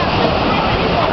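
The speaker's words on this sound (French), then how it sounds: "on va essayer de voir une grosse vague" Big ocean waves crash nearby in a loud, unbroken roar of surf and churning water.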